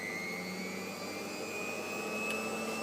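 A laboratory microcentrifuge spins at its maximum speed of 15,000 RPM, giving a steady, even high-pitched whine with a constant hum underneath, close and uninterrupted throughout.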